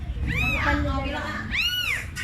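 A small house cat meows twice, close and clear, with drawn-out rising and falling calls separated by a short pause over background noise.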